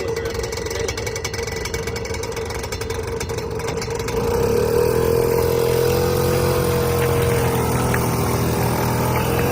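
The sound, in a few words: diesel engine of vehicle running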